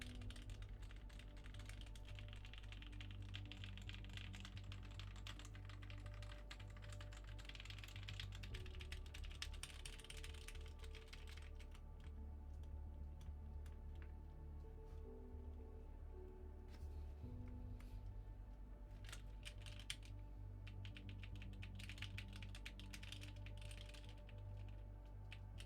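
Steady, rapid typing on a TGR Jane v2 CE mechanical keyboard with DCS keycaps: a dense, continuous stream of clacky keystrokes over a low hum, pausing briefly now and then before resuming.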